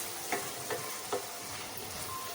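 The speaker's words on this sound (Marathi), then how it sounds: "आपल्याला हे व्यवस्थित परतून घ्यायचं." A spiced banana-flower vegetable mixture with garam masala sautés in a pan, a soft steady sizzle broken by three quick scraping stirs, quiet and close with no talk.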